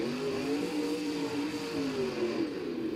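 A struggling monster truck engine in BeamNG drones steadily at high revs for the whole stretch, with no talk.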